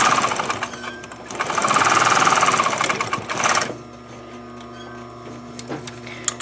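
A sewing machine stitching fabric for a triangle bag, a rapid mechanical whirring run that swells for a few seconds and then stops, leaving a quiet room with a few small clicks.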